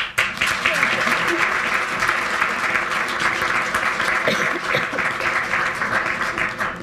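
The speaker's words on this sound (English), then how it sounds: "So another round of applause." A crowd applauds steadily, dense clapping filling the room at an even loudness for several seconds before starting to fade.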